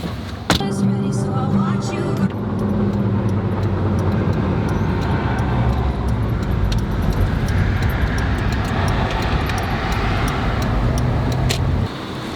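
A rented Maserati drives along the road, its engine and tire noise forming a steady, continuous rumble from start to finish, with a voice talking briefly underneath.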